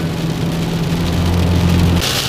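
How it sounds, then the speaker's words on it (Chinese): Heavy rain drums steadily on a car driving a mountain road in Türkiye, a dense continuous roar with a low engine hum beneath. No one speaks. "这块这雨下的大呀"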